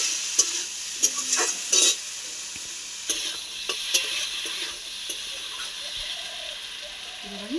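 Rui fish curry being stir-fried in a pan, a constant close sizzle with repeated scraping stirs and clinks of the spatula, and a voice murmuring faintly in the background.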